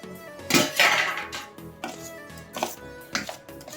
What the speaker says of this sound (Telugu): ఇప్పుడు మనం ఇంతకుముందు ఉడకబెట్టుకున్నాం కదా, ఈ కాలీఫ్లవర్ని వేసేసి కలుపుకుందాం